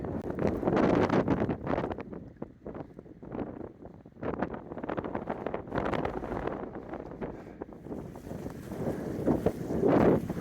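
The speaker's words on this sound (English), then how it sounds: "The wind has returned, blowing whitecaps across the lake." Strong wind buffeting the microphone beside a high mountain lake whipped into whitecaps on a Sierra backcountry hike, a loud continuous roar with gusting swells and no talking.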